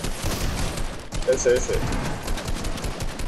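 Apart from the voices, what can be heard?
gunshots nearby in the video game Fortnite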